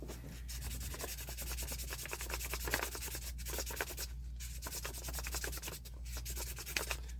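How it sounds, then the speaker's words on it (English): Close, steady scratchy rubbing of wet 1200-grit sandpaper on a silver ring made from a quarter, in quick back-and-forth strokes, continuing evenly throughout with a low hum underneath. "So we're going to start the wet sanding."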